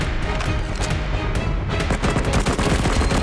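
A dense, loud barrage of gunfire in the mobile shooter Cover Fire, with a grenade blast somewhere in the dense sustained rattle of shots. Rapid repeated cracks run continuously with no talking over them.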